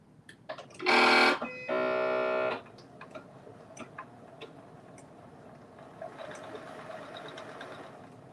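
A sewing machine sews a back stitch on an elastic casing in two loud, close bursts, a short fast run and then a slightly longer steady run, with light ticking and handling noises around them.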